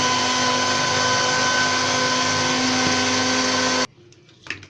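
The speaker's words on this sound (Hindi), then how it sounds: "अब इसको ब्लेंड करते हैं।" A kitchen blender whirs steadily and loudly while mixing cold coffee with milk and ice cream, then cuts off abruptly, leaving a few faint clinks.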